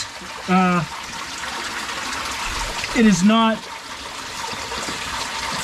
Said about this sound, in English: I'm gonna crawl out this water hole.